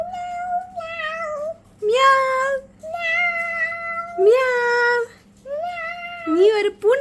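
A person's voice imitates a kitten, making a run of high, wavering meows in quick succession, close and fairly loud, with short pauses between them.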